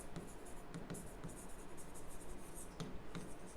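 Pen writing figures on paper during an accounting lesson, a continuous soft scratching with small ticks and strokes scattered throughout, close and fairly quiet with no voice.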